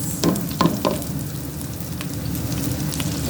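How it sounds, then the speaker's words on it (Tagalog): Onion sautés in hot cooking oil with a continuous close sizzle; a few sharp utensil clinks and stirring sounds come early, then a steady frying hiss. "So, ayan, nagigisa na tayo guys"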